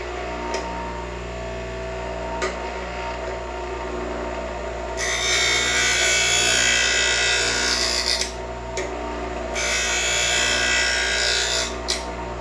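An old block plane iron has its bevel ground on a grinder, two sustained gritty bursts of rasping contact rising over a steady motor hum, with brief clicks and quieter stretches between them.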